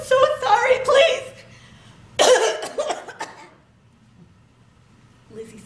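Harsh, wet coughing in two bursts, as a girl coughs up water after nearly drowning, performed by a voice in a dramatized story reading, followed by quiet.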